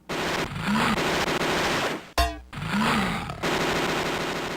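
Enemy gunfire in the Sega Genesis game RoboCop Versus The Terminator, sounding as dense, continuous synthesized rattling bursts that fill the mix, broken by one brief gap and an abrupt electronic sweep in the middle.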